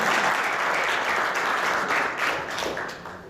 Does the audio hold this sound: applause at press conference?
yes